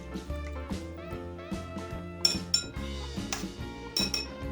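A spoon stirs tomato paste and water together in a bowl, giving repeated bright clinks and scrapes against the dish over a background of music.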